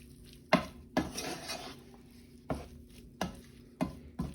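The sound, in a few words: mixing shrimp fried rice in a pan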